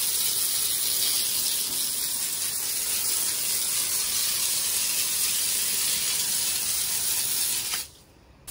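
A garden hose spray nozzle set to a strong jet, used for washing outdoors, gives a loud, steady broadband hiss that runs unbroken for about eight seconds, then cuts off abruptly near the end.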